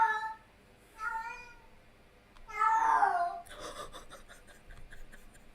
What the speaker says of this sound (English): you can hear my cat again